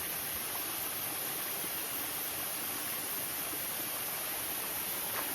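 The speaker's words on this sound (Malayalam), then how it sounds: "അരുവിയിൽ നിന്ന് വെള്ളം കുടിക്കുക," A forest stream beside a trekking trail to Agastyarkoodam flows in a soft, even wash of running water, steady and moderately distant with no voices.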